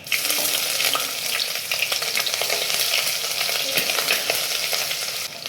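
Crushed ginger and garlic fry with fenugreek seeds in hot oil in a pan for a sardine curry, making a loud, dense, continuous sizzle up close with crackles and stirring throughout.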